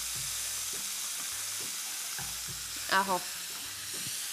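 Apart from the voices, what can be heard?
onion sautéing in a frying pan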